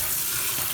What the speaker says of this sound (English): I washed the lobster.